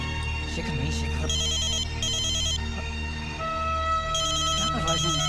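A phone ringtone plays repeatedly in short bursts, a bright electronic melody over a steady background hum and faint music.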